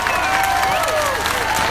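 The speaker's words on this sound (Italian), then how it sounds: "Un grande applauso a Luigi Di Maio" An outdoor crowd at a political rally for Luigi Di Maio in a Palermo piazza claps loudly and continuously, with cheers and whistles over the applause.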